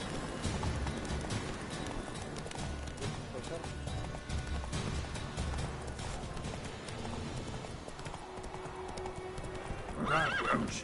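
In The Witcher 3, a horse gallops with steady clip-clop hoofbeats and lets out a whinny near the end, layered under game music, ambience and a talking voice.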